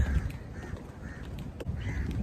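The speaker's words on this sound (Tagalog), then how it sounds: "Ang dami namang uwak." Several crows caw harshly in short bursts, some near and some farther off, over a low rumble of wind or traffic, on a man-made island.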